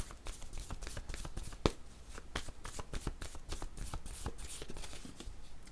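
Tarot cards shuffled by hand, a fast, faint run of riffling flicks and taps close by, with one sharp snap partway through.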